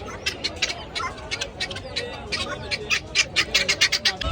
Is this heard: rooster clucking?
yes